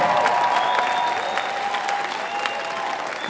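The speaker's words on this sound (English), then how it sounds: "Round of applause to them." Warm applause for a Kenyan choir after a choral performance, many hands clapping steadily with crowd murmur and a faint lingering tone underneath.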